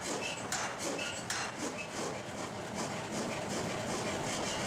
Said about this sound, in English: the power hammer's ram descends repeatedly, delivering precise, rhythmic blows